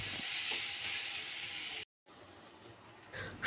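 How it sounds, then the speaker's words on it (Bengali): Onion frying in a pan with garlic and ginger paste gives a soft steady sizzle and hiss, faint and continuous, briefly cut off partway through. "পেঁয়াজের কালারটা চেঞ্জ হলে দিয়ে দেব 1 চামচ রসুন বাটা, 1 চামচ আদা বাটা। খুব ভালো করে কষিয়ে নেব।"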